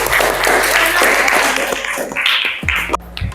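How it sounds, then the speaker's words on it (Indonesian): Clapping breaks out for Nia, a student answering in an Indonesian classroom training session, a dense burst of hands that thins out over about three seconds. "Berikan tepuk tangan untuk Nia."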